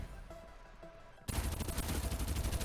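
Gunfire in the battle royale video game Farlight: after a quiet stretch, a dense burst of rapid automatic shots starts abruptly and keeps rattling loudly to the end, with no talking.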